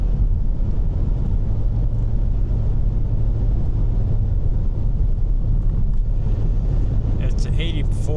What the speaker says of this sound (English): It's 84 outside and I'm driving 70 miles an hour.